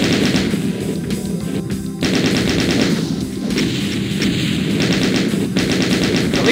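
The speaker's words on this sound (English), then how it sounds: "Chain gun." Rapid, continuous chaingun fire from the Doom 2 video game, loud and sustained with a few brief pauses, dense overlapping shots dominating throughout.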